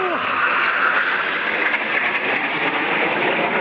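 A Kenya Air Force plane passes over Laikipia air base in a steady, loud broadband roar that holds for the whole stretch with no clear rise or fade, like a nearby flyby.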